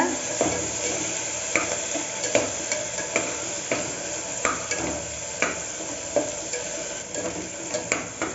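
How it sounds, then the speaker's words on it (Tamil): Dried red chillies and tomato sautéing in plenty of oil for a mutton kulambu: a steady close sizzle broken by regular rhythmic scrapes of a spatula against the pan. "4 காஞ்ச மிளகாய், இதெல்லாம் சேர்த்து நல்லா வணக்கி விடுங்க"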